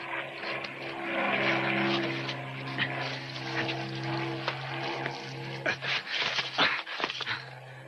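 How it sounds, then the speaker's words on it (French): A propeller airplane drones loud and steady, then recedes as it flies away, with clattering and knocking sounds nearby toward the end. "L'avion, il est parti."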